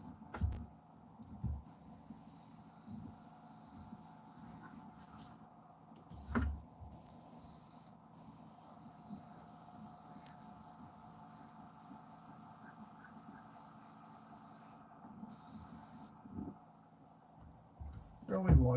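Aerosol spray paint hisses over a P-51 model aircraft in long steady bursts with brief pauses, a close continuous spray with a quiet room tone underneath.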